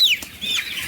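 Chickens clucking close by in a short burst, with chicks kept in a cool spot on a farm, a few quick calls rising and falling.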